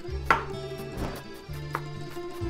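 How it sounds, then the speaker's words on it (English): Onions being chopped on a board, a few sharp knife strikes at irregular spacing over a low steady background hum. "Then we're gonna chop our onions."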